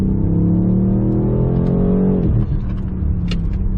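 A BMW M8 pulls hard out of a corner, its engine note rising loud and close for a couple of seconds before easing off.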